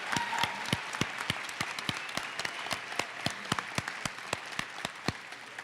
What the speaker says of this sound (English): You deserve a huge round of applause.